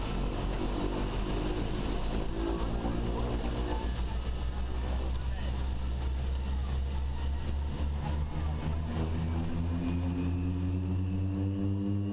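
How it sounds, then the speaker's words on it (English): Single-engine Piper Cherokee Archer propeller airplane in flight, its steady engine drone and prop hum loud and continuous from the cockpit, with a slowly shifting whine throughout. "Piper Cherokee Archer, and we are inbound for Rochester."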